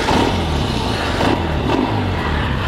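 A 1965 motorcycle engine running just after a kick start, loud and close, with a rough continuous rumble and small surges as it is revved.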